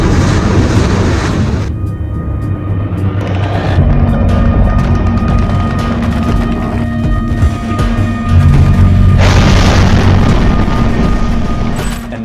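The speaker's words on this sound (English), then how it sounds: "the rockets start flying and the tanks start rolling" Rocket explosions and heavy booms at the outbreak of war roll on loud and continuous, with a deep rumbling barrage and crackling bursts that swell again toward the end.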